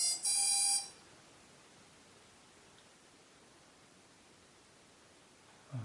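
An AGM Nighthawk 250 quadcopter's electronics give a loud, short multi-tone beep during calibration right at the start. Near silence follows, with a faint hiss and a small click at the very end.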